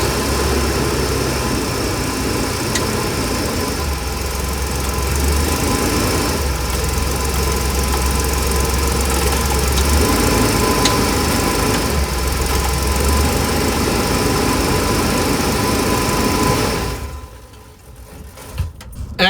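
Chevrolet engine idling steadily after a transmission shift cable repair, a loud close low rumble with faint knocking that runs nearly the whole time before cutting off near the end.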